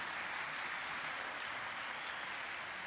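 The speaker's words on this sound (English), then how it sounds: "Let's give them a big round of applause." Steady applause from a congregation at a Friday night Shabbat service honoring B'nai Mitzvah, a continuous wash of clapping that stays even and moderately distant throughout.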